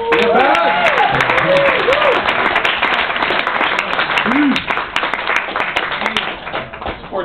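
A crowd at a Young Republican of the Year speech applauds the speaker's wife, Beth, with loud, dense clapping that fills the room, while voices call out and cheer over it.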